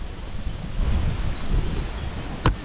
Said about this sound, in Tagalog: malakas-lakas ang hangin dito mahangin siya